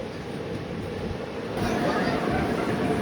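The Chamarajanagar–Mysuru–Tirupati Express stands at platform 2 at Kengeri station in the rain, a steady low rumble that grows louder about halfway through, with faint voices in the background.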